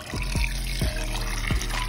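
Water is dumped out while a turtle tank is rinsed, giving a steady close splashing pour with several sudden gushes and sloshes.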